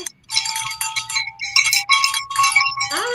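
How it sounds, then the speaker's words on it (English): A small bell rings in repeated bright, jingling bursts with a sustained ringing tone. It sounds close and has no talk over it. "There's my bell right here."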